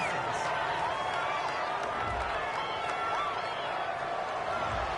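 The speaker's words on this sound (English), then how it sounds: "Well, this crowd does not like that call." Stadium crowd in a Steelers at Bears football video game reacts to a penalty call with a steady, dense roar and scattered clapping that holds throughout.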